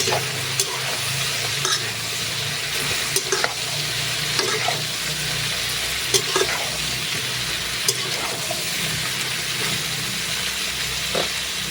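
Sponge gourd sizzles steadily in a hot frying pan, a dense, loud continuous crackle with occasional scrapes and clicks from stirring, no voices.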